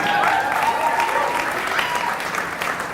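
An audience at a university event claps and snaps steadily and evenly for a few seconds, a dense wash of applause with no voices standing out.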